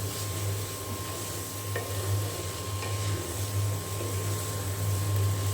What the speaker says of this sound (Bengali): তো আমি আর একটু ভাজি করে নেব তারপরে নামিয়ে নেব চাল কুমড়ো ভাজিটা